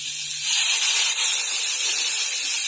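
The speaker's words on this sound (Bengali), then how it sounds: "এখন আমি এখানটায় জল দিয়ে দেব।" Water poured into a hot pan of frying food sets off a loud, close sizzling hiss that swells quickly and stays strong and steady to the end.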